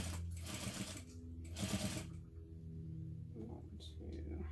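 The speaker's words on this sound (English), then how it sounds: "sew this together using a 1/2 inch seam allowance" A sewing machine stitches a seam on a hobo bag with a half-inch seam allowance, its steady motor whir running in bursts with brief pauses between runs.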